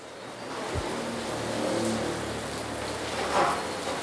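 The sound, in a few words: heavy rain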